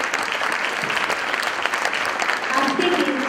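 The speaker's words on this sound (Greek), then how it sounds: "να χειροκροτήσουμε θερμά" An audience at a primary school event applauds children warmly, a dense steady clatter of clapping that swells slightly near the end, with a voice speaking over it.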